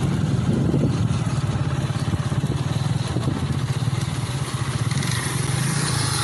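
Motorbike engine running close by with a steady, throbbing mid-pitched putter and dense rhythmic pulses, loud and continuous throughout with no pauses.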